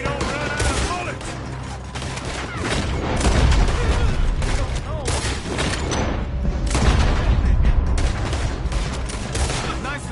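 Gunfire in a PS4 shooter: dense, sustained bursts of rapid shots and booming impacts rattle continuously and loudly, with game voices talking underneath the fusillade.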